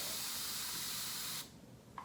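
A steady, close hiss comes from a plastic continuous-mist spray bottle spraying hair product for styling curls. It runs unbroken for about a second and a half, then stops sharply, leaving quiet room tone.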